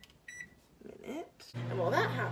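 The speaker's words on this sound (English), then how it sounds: "Put it in the microwave" A dorm microwave oven heating a quesadilla gives a short beep, then starts up with a low, steady hum while a person talks nearby.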